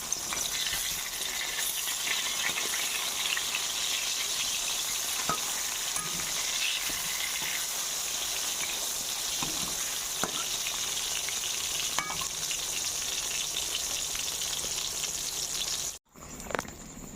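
Brinjal slices shallow-fry in a little oil in a pan with a steady, even sizzle and crackle, broken by a few soft clicks and a brief dropout near the end. No one speaks.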